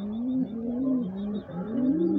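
Domestic pigeons in a breeding loft give repeated cooing, several rolling, wavering phrases in steady succession, close and moderately loud.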